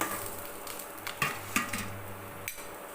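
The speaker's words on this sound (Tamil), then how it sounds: "உளுந்து உளுந்து பட்டை இது மட்டும் நல்லா வறுத்துட்டு அரைச்சி எடுத்துக்கலாம்" Urad dal and cinnamon dry-roasting in a pan give a faint, soft sizzle and rustle, broken by a few light scraping and stirring clicks against the metal.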